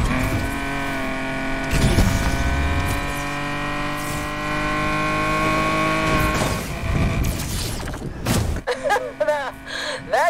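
A car in Need For Speed Unbound street racing keeps a loud, sustained engine drone with rising revs and shifts, then gives way to a cluster of sharp impacts and tire noise near the end, with some voice.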